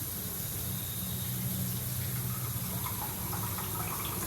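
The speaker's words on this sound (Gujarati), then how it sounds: "પાણી ઉમેરશું।" Water being poured into a pot of soaked khichdi rice and lentils with ground spinach, a steady continuous gushing and splashing close by for a few seconds.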